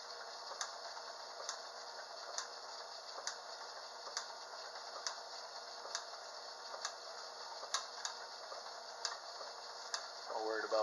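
An Ammco 7-inch metal shaper runs steadily, its ram ticking in a regular rhythm about every half second under a constant mechanical whir, heard close and moderately loud with no cutting yet.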